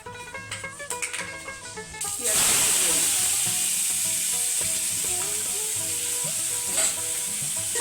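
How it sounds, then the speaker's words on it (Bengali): Fenugreek seeds hitting hot oil left over from frying fish burst into a loud, sustained sizzle, preceded by a couple of seconds of background music and light clinks. "মাছের ওই তেলেই আমি সামান্য মেথি দিয়েছি"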